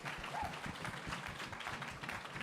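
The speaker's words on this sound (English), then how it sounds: "can we end today with another round of applause" Audience applauding after a summer intensive dance showing, a continuous soft patter of many hands clapping, heard faint and somewhat distant.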